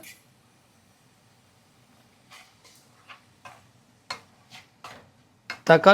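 Chopped tomatoes are sautéed with mushrooms in oil for a brown mushroom gravy. After a quiet start, a spoon makes scattered, close scraping and clinking strokes against the pan, which grow louder and busier toward the end.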